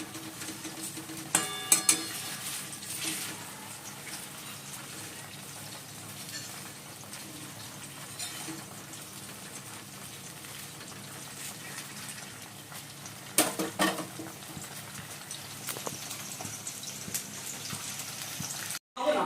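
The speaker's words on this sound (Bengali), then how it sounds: "চিকেনগুলো এখন ভেজে নিচ্ছি।" Marinated chicken pieces fry in a pan for a home-cooked meal, giving a steady, fairly quiet hiss with a few louder spattering bursts and no talking.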